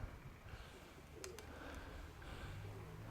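Soft pigeon cooing, faint and somewhat distant, over steady outdoor background noise with a couple of brief higher chirps.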